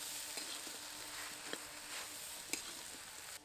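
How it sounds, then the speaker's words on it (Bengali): Cumin, mustard and ginger paste are stirred into frying pui stems and greens, a faint, steady sizzle with soft scraping strokes and a couple of light clinks of the spoon, ending abruptly. "এবার এর মধ্যে জিরে সর্ষে আর আদা বাটাটা দিয়ে দেবো আবারও কিছুক্ষণ ভালো করে নেড়ে চেড়ে নেব"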